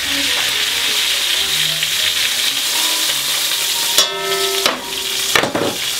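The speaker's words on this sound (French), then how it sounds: "Je fais suer légèrement les oignons comme ça." A steady, close sizzle of onions and garlic frying in a pot, with a few scraping stirs near the end.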